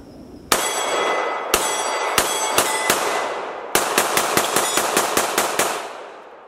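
Gunshots from an FNX-45 Tactical pistol fitted with a Trijicon SRO sight ring out in sharp bursts: scattered single shots, then a quick string of about ten rapid rounds, each loud and close with a brief ringing tail.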